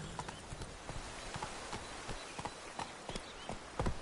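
Roach, the horse in The Witcher 3, trots along with regular, crisp hoof clip-clops at moderate volume, the beats slightly uneven and closer toward the end.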